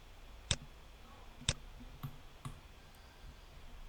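Four sharp, faint computer mouse clicks, irregularly spaced about a second apart, over a quiet room hum while drafting in Revit MEP 2026 software; no one talks.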